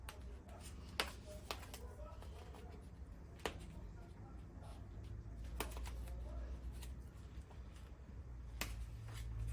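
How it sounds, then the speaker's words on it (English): Cutters snip cable ties on a circulation pump, giving a handful of sharp, isolated clicks spaced irregularly over a low, quiet room hum. "Take some cutters, scissors, cut back these cable ties."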